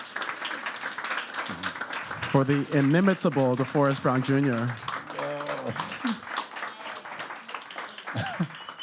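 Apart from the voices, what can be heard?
audience applause for DeForrest Brown Jr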